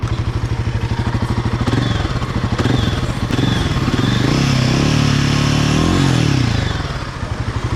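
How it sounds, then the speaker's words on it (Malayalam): Royal Enfield Guerrilla 450 motorcycle exhaust revving close by, a loud, aggressive bass-heavy note rising and falling through several throttle blips with steady idle thump between, no talk over it. "നല്ല അഗ്രസീവായിട്ടുള്ള ഒരു എക്സോസ്റ്റ് നോട്ടാണ് ബൈക്കിനുള്ളത്"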